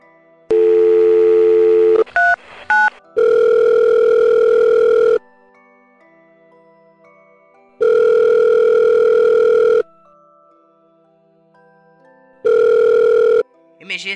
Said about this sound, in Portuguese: Disquei o número mesmo assim.